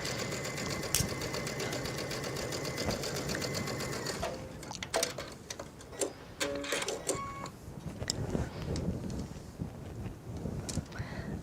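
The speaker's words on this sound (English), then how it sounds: "I'll flip this around so I can sew with the lace" Close up, a sewing machine whirs steadily as it stitches lace along a very small seam allowance, then stops; a few sharp clicks and handling taps follow in a quiet room.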